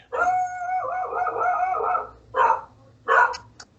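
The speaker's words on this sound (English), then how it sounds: "it sounds like the dog" A dog inside a house gives one long drawn-out howling bark followed by two shorter sharp barks, close and clear with no voices over it.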